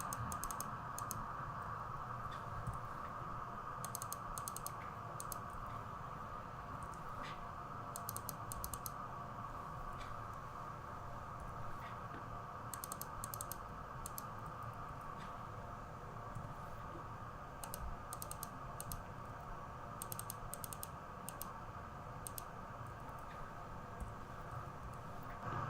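Someone types parameters on a computer keyboard in short bursts of quick key clicks, faint under a steady fan-like hum from nearby equipment.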